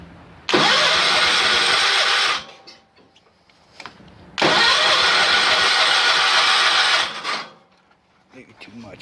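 An Ariens GT garden tractor engine, just fitted with new switches, is cranked with the choke pulled in two loud, harsh starter bursts of about two and three seconds, quiet gaps between them, with a voice briefly heard afterward.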